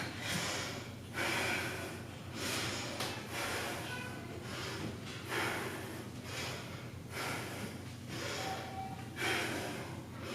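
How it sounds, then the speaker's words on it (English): Heavy breathing during a strength and recovery workout, a run of loud, close rhythmic inhales and exhales, some sharp and snorting, repeating roughly every second with no talk. "Try to regulate your breathing here."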